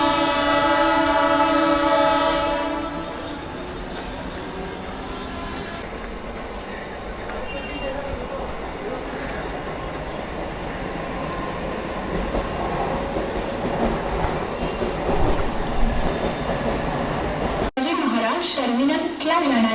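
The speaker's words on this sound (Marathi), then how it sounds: "टर्मिनसला जाणारी धीमी लोकल आहे." A Mumbai slow local train bound for Chhatrapati Shivaji Maharaj Terminus rumbles and clatters steadily on the tracks, loud and close, after an opening horn blast, with a platform announcement in the background.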